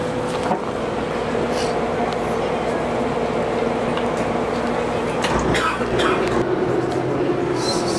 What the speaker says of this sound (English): the traction cable that pulls the tram along, and it's obviously reeling the tram in